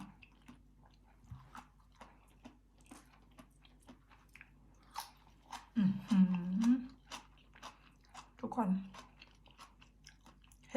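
Close, crisp crunching and biting sounds of someone chewing crunchy steamed mushrooms, with soft wet mouth noises and a couple of louder crunchy bursts, no one speaking.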